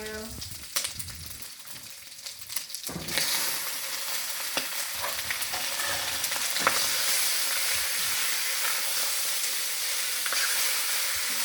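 Shrimp dropped into a hot pan with jerk pork fried rice: a quieter start, then a loud continuous sizzle and hiss with occasional stirring scrapes, close and steady, no talking.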